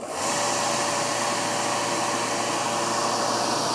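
Vacuum pump on a high-flow vacuum control valve test system switching on, then a steady, loud broadband whirring hum with a faint tonal whine running continuously and alone.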